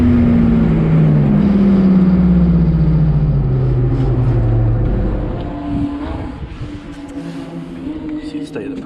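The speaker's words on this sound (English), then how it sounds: "Listen to how the brakes sound in the braking zone." Turbo Mazda MX5 with worn-out brake pads braking hard into a corner on track, engine note falling in pitch as it slows, then grinding, scraping noise from the brakes, loud and close.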